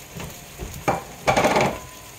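A smash burger patty sizzles as it cooks: a brief burst of frying hiss, then a longer, louder sputtering sizzle, close by with no talking.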